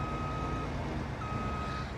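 Steady electronic reverse beeps from a farm vehicle in Farming Simulator 22 during alpine grass work, likely near a Krone BiG M 500 mower, two long sustained tones over a continuous low engine drone.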